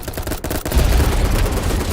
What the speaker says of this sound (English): The only thing that kills me about this AK is the fire rate.